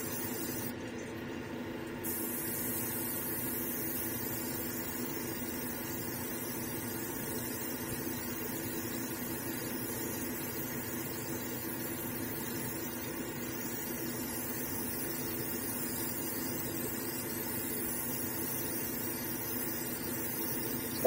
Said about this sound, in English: As soon as we start to spray our resin, it's got some nice dimension to it.